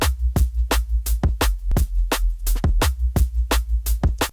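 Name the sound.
plain sine wave sub bass sound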